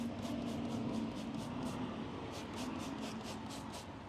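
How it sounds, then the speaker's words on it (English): Wheel cleaner sprayed from a trigger bottle onto dirty car wheels and upper tire area, a rapid series of short hissing bursts in steady rhythm over a constant background rumble, close and fairly loud. "let's spray a little bit more up top here"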